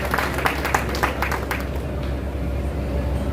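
Applause from an audience at a bhajan evening and political conference in Shahdara, Delhi, a dense burst of clapping that fades after a couple of seconds into a low crowd murmur.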